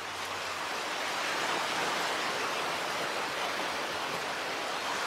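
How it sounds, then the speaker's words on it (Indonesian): Heavy rain pours down in a dense, steady hiss, loud and unbroken from start to finish with no other sounds standing out. "Hujan tambah deras Mas Abi."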